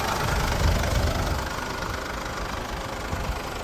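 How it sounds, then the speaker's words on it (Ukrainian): A steady 2019 Mercedes-Benz Sprinter diesel van engine idles close by, a low continuous rumble with a faint knocking texture and no voices over it. "двигун працює ідеально, як бензиновий, не скажу, що дизель"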